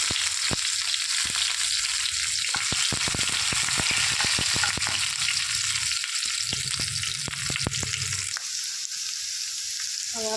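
Potatoes and curry leaves hit hot oil with cumin, setting off a loud, dense sizzle that crackles and spatters throughout, with occasional stirring clatter, close and continuous, with no voices.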